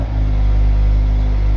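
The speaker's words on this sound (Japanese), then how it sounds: "ちょっとエンジンかけてみます。" A 2016 Mazda Roadster 1.5 RS with six-speed manual runs close by, its engine giving a steady, loud low rumble with even idle harmonics after a brief start at the very beginning.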